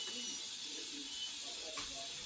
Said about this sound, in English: The steam is coming out just very little.